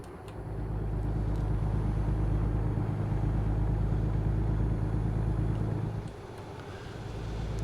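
Steady low road rumble and engine drone from a truck cruising at 65 miles an hour, continuous and close, dipping slightly near the end before building again.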